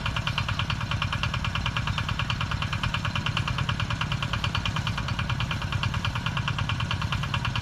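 A farm tractor engine runs at a steady idle close by, its rapid regular chugging pulse continuous and unchanging, with no talk over it.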